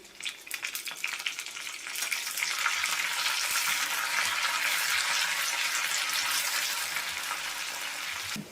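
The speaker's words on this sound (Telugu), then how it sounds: "ఇవి కూడా వేగిపోయిన తర్వాత కరివేపాకు వేసుకుని ఫ్రై చేసుకోవాలి" Curry leaves and dried red chillies hit hot oil for a dal tempering, starting with sparse pops and then swelling into a dense, continuous hiss of frying that holds loud and close, without any talking.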